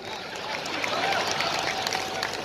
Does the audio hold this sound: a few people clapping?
yes